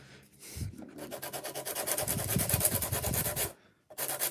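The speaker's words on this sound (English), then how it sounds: "So what I'm doing is using a fine emery board." A fine emery board rubs back and forth over grout that has been given an undercoat of paint, a close, rhythmic dry scraping in quick strokes with a brief pause near the end.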